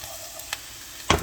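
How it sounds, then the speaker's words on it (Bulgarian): Potatoes being stirred and sautéed in a pan, a soft steady sizzle with a couple of brief scraping stirs, the last one louder, over a short quiet moment. "И разбъркваме отново, така. Да ги сотираме."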